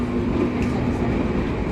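Inside the executive carriage of a moving passenger train, a steady loud rumble and low hum of the wheels and car body runs continuously without a break.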